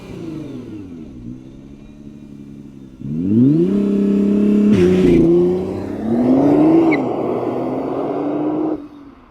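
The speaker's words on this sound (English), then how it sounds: "let's fire up the GT-R and see, or at least hear, if the sound matches what this thing looks like" A Nissan GT-R R35 performance car engine cranking to life, then settling and revving in rising and falling bursts close by before dropping back, with no talk.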